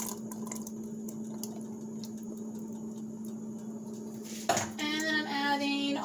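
Canned black beans tip out of a can into a pot of vegan bean, tomato and herb soup, a short wet slide and splash following a sharp metallic clink, with kitchen clatter and a steady background hum before it.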